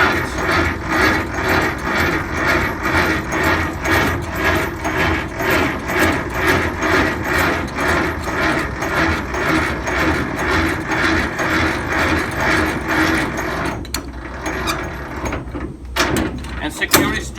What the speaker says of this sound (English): Then you can move the landing gear in the second gear, in a higher gear. And we're gonna raise the landing gear all the way up